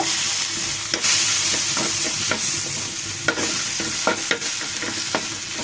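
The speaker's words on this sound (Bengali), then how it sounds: "এই পর্যায়ে দিয়ে দিব চাপা শুটকিগুলোকে সুন্দর করে ভেজে নিব।" Chapa shutki, a dried fish, frying in a pan with dried red chillies, a dense close sizzle broken by repeated sharp spatula scrapes and knocks at an irregular pace, no talking.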